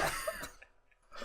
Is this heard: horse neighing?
no